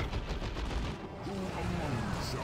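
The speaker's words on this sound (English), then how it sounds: "now we have a shooting match, Shooter Boys versus Termagants" Rapid gunfire crackles in a Dawn of War 2 Retribution match as Shoota Boyz trade shots with Termagants, a dense continuous battle din with shots overlapping throughout.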